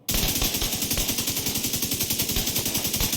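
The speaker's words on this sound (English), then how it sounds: "I'll just do a quick demonstration of the FAL." An FAL rifle fires in the Division 2 video game as a continuous rapid stream of loud, evenly spaced shots with no break for the full burst.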